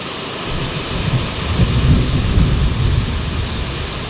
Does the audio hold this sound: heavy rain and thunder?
yes